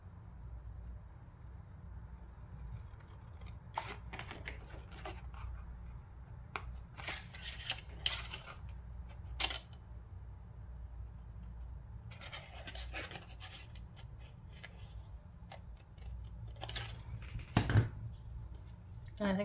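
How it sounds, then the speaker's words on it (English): Intermittent bursts of crisp snipping and paper rustling as scissors cut through paper, separated by quieter pauses. "I'm just going to cut it out with my scissors."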